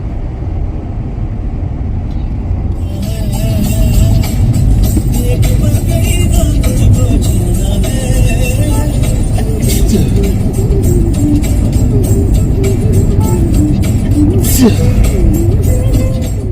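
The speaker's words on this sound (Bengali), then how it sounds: "ফাঁকায় গাড়ি চালাবো, যারা গাড়ি চালাতে ভালোবাসে।" A car cruises along an open road on a trip out of Kolkata, with a steady, loud rumble of engine and tyre noise close inside the cabin and light, unclear background sounds over it.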